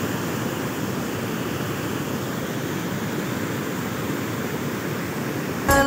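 Water rushes continuously at Sugga Bandh waterfall in Mahuadanr, a loud, steady broadband roar with no break and no voices.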